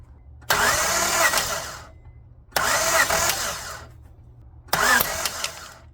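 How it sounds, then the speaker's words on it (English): A car engine cranks with the throttle held wide open, as a flipped Facebook Marketplace car is being fixed. There are three loud separate cranking bursts of about a second and a half each, with quiet gaps between them and no talking. "I'm also gonna keep the throttle all the way open so it disengages the injectors and allows for more airflow."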